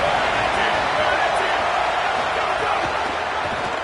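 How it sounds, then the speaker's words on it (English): A football stadium crowd roars as a dense, steady wash of cheering during a Penn State–Michigan game, loud and continuous without a break. "This crowd ready to make its presence known."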